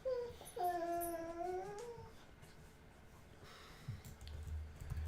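A high, wavering whine rises and bends downward for about two seconds, then quiet rustling and a few soft low thumps follow nearby.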